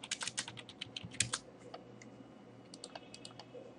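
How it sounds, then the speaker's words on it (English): Typing of a username and password on a computer keyboard while logging in to a Joomla site administration panel, with a fast flurry of close clicking keystrokes at first, then sparser taps and a few final key presses, no talk. "Here is where you type in your username and password."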